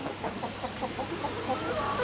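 Several chickens cluck softly nearby in a steady stream of short, overlapping calls, with a higher squawk or two.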